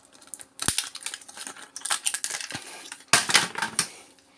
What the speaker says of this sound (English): Just get the little pliers and just cut the wires